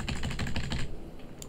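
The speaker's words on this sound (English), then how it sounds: "I will shuffle this for maximum effort." A deck of game cards being shuffled during an Aeon's End tabletop session, a quick close burst of crisp riffling clicks that stops after about a second.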